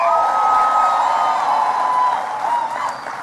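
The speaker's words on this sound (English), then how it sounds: "Give him a big round of applause." A large crowd at a National Action Network event cheers and applauds loudly, with whoops and shouts over sustained clapping that gradually tapers off.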